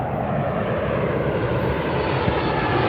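Southwest Airlines Boeing 737 arriving at Las Vegas airport: a dense, even engine rumble with no breaks, steady in level over a few seconds and fairly close.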